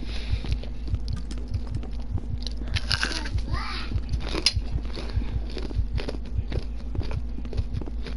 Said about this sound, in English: Sorry about the crunching, guys.